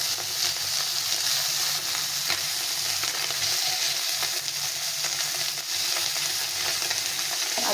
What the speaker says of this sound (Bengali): মাছগুলো সুন্দরভাবে ভাজা হচ্ছে